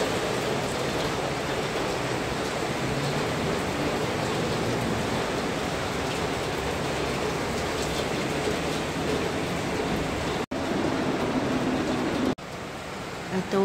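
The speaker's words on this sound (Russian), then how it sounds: "Льет как из ведра." Heavy spring rain pours down in a steady, dense hiss that fills the whole clip, loud and continuous with two very brief dropouts near the end.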